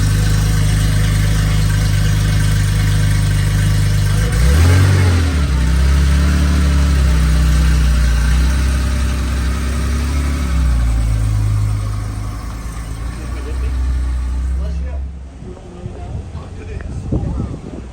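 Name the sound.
Porsche GT3 engine revving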